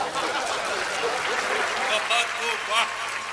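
Applause from an audience at a Hindi poetry gathering, a steady wash of clapping that swells slightly near the end, with faint voices mixed in.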